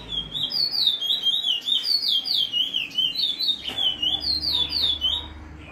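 A caged bullfinch sings free, repeating rolling whistled phrases roll after roll, clear and fairly close, with a hum beneath.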